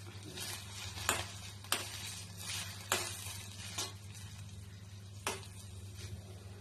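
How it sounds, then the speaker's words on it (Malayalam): Tomatoes fry in oil in a pan, giving a soft continuous sizzle broken by a few sharp clinks and scrapes of a spoon stirring against the metal, close and fairly quiet, with no one speaking. "ഇനി അടുത്തതായിട്ട് ടൊമാറ്റോ മൂപ്പിച്ചെടുക്കാം"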